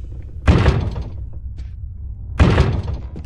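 Locked door rattling in the video game Evil Nun: The Broken Mask: two loud, close jolts of clattering about two seconds apart, each fading quickly, with no talk.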